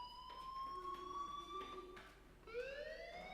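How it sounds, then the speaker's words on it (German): A school fire alarm from the video game Life is Strange blares as a loud, steady electronic tone with rising and falling sweeps, continuing for the whole stretch with no talk over it. "Hey, do you hear that fire alarm?"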